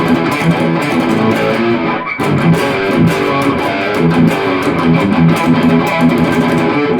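Distorted electric guitar plays through a Marshall JCM 800-style 1 Watt amp set to high thrash metal gain, with dense, loud riffing and palm-muted chugs that pause briefly around two seconds, with no talking.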